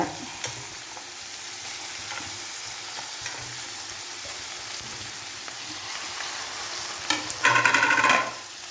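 Potato and bitter gourd stir-fry with chilli and ginger in a pan, a continuous soft sizzle with scraping stir strokes, ending in a louder burst of sizzling and clattering as the mixture is tossed.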